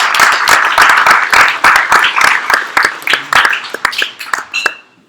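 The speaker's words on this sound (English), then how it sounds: "One more big round of applause for Digital Garage and this beautiful space." Audience at a crypto token-economy event gives a round of applause, distinct sharp claps from a small crowd in a rhythm that thins and fades out toward the end.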